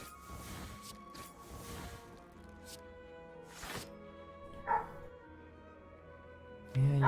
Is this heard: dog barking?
yes